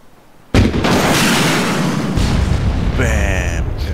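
A sudden loud blast from an explosive shot in Arma 3 bursts in and rumbles on for a few seconds, followed by a sharper crackling burst near the end.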